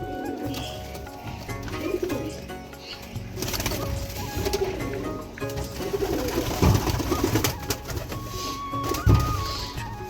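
Madras pigeons coo repeatedly at a home loft, their soft throaty calls rolling over one another at close range against steady background noise, with no talk.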